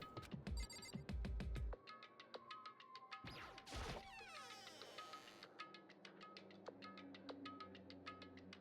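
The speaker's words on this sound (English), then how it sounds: "did I hear the doorbell?" Repeated electronic doorbell tones from the video game Danganronpa: Trigger Happy Havoc chime in a steady pattern, broken by a short crash and a burst of noise before the ringing continues.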